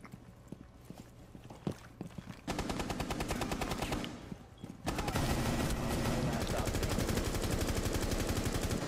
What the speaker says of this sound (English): I shot him in the head twice.